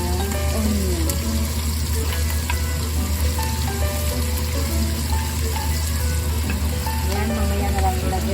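Garlic and onion sizzle and fry steadily in a hot pan while cooking Kapsa rice with camel meat, a constant close crackle with some stirring, a voice briefly heard over it.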